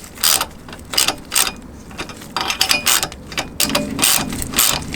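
Ratchet wrench slowly tightening engine guard bolts on a Suzuki V-Strom 800 motorcycle, a series of rapid clicking bursts with short pauses between strokes, close and fairly loud.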